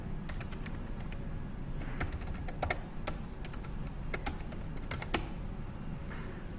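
Code being typed on a computer keyboard, with irregular bursts of close, crisp key clicks over a low steady room hum and no talking.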